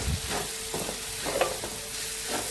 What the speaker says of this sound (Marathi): मेथी टाकली म्हणजे परतून परतून घ्यायची.